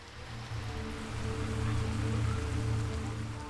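Steady monsoon rain falling over dry farmland in India at the start of the wet season, a continuous dense patter with a low rumbling undertone that swells slightly midway, no voices.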